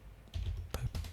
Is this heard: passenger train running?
no